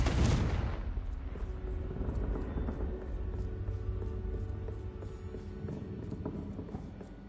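Confringo fire spell in the video game Hogwarts Legacy, a loud explosive burst at the start followed by rumbling, crackling blasts and a fading low roar, with game ambience continuing underneath.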